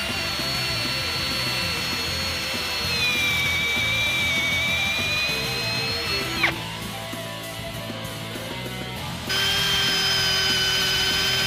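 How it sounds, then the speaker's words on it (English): A cordless power drill bores a hole through a wooden sledgehammer handle, its steady motor whine dipping in pitch under load, briefly stopping, then spinning up again at full speed. "Now we can start a new hole there with the battery of the drill in the way."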